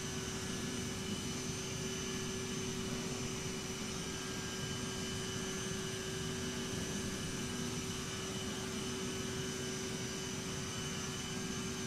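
Steady, droning jet engine hum of an SAS CRJ-700 airliner in MSFS 2020 with default Aerosoft sounds, a constant loud whine with a tonal hum layered over broadband roar, unbroken for the whole stretch with no talking.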